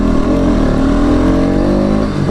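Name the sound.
Bajaj Pulsar NS200 motorcycle engine accelerating on the road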